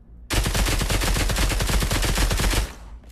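A Kriss Vector SMG fires one sustained full-auto burst in the video game Pavlov, loud and close, cutting off abruptly after about two and a half seconds.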